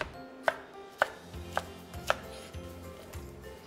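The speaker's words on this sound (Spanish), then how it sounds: "Le quitamos las semillas, la parte blanca, y lo partimos en trozos." A deseeded tomato is chopped into pieces on a board with four sharp, evenly spaced knife strikes, close and clear, and faint handling sounds between them.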